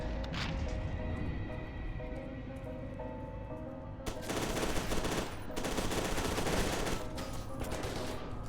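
A nail gun fires in FEAR 2, starting as scattered shots over a low steady hum, then breaking into a dense, loud rattle of rapid-fire bursts that continues to the end.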